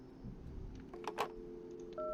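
Telephone dialing 911 in the horror video game Tales Beyond The Tomb: a few quiet key tones, then a steady held tone at the end, with no talking.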